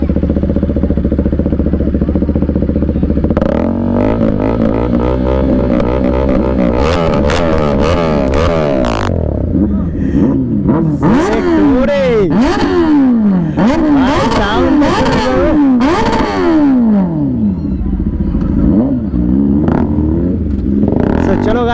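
Kawasaki ZX-10R and Z900 motorcycles revving hard and close, a loud continuous roar with repeated rising and falling throttle blips and crackling sweeps, running unbroken for about twenty seconds with faint voices underneath.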